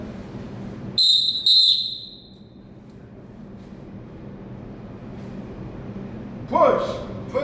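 Two sharp, loud blasts from a referee's whistle at a basketball officials clinic stand out against a room murmur. Later a voice shouts briefly.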